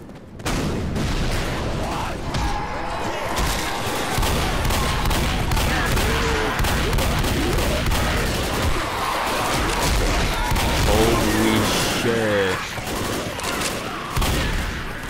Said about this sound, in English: Oh my God, fire the howitzer.